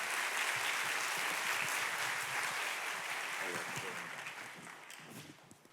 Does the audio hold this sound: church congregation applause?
yes